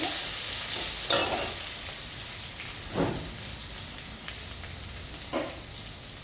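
Chopped onion stirred in a frying pan, a continuous soft sizzle broken by a few scraping strokes of a spatula, close and moderate, with no voices.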